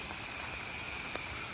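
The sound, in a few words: monsoon rain falling outside at night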